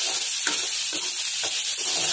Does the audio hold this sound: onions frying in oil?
yes